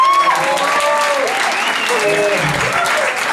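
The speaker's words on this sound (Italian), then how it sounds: "Francesco Raiola di Fanpage, un applauso" Steady, loud applause from an audience at a Feltrinelli bookstore event in Naples fills the space continuously, with a few whistles rising over the clapping crowd.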